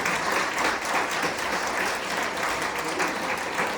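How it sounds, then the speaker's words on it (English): An audience at a meet-the-candidates forum for the 2024 Wingecarribee Shire Council election applauds, giving dense, steady clapping that stays loud and even throughout with no break. "Let's give them a round of applause, everyone."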